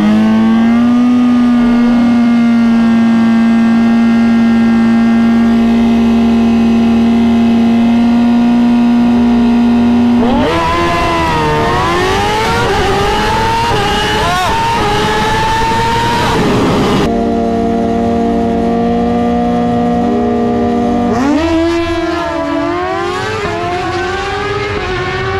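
A built Suzuki GSX-R 1000 at a drag track holds a loud, steady high-pitched engine drone, then screams through rising and falling rev sweeps twice. Each sweep is loud and close, with no talking.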